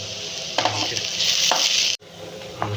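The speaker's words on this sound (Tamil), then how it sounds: "இப்போ வெங்காயம் வந்து நல்லா வதங்கி வந்துருச்சு கொஞ்சம் கருவேப்பிலை ஆட் பண்ணிக்கிங்க" Onions and curry leaves sizzle steadily in a frying pan, a continuous bright hiss broken by a few soft stirring scrapes and one brief dropout.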